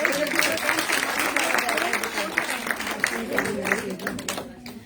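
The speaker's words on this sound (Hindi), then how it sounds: "तालियों में कोई कंजूसी नहीं" Applause from the crowd at a party women's wing awards event on Good Governance Day, sustained clapping heard throughout with a voice speaking over it and scattered crowd noise.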